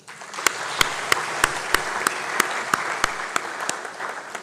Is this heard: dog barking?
no